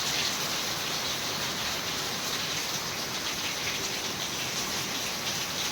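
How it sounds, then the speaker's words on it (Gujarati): Heavy monsoon rain pours steadily in a village, a dense, even hiss of drops on surfaces that continues unbroken and loud for the whole stretch. "વરસાદ બહુ ચાલુ"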